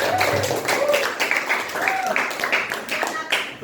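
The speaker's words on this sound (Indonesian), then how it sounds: "Kita tepuk tangan untuk kita semua." Students in a classroom applaud after finishing a hydrostatic pressure science experiment, giving a brisk run of close claps with overlapping voices and cheers throughout.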